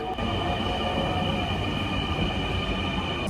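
A Dhaka metro rail train sits at an elevated platform, giving a steady mechanical hum and rumble with a high tonal whine, constant and close for a few seconds.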